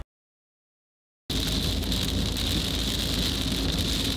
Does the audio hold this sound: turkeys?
no